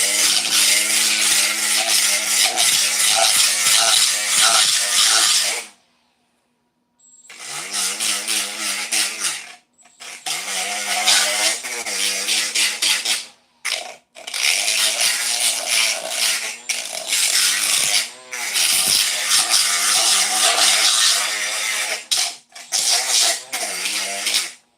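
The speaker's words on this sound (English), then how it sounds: "very quick knockdown for any high spots. I'm currently using 36 grit" Bondo on custom mirrors knocked down with a power sander and 36 grit paper, a loud, harsh, continuous grinding roar in long bursts separated by short pauses.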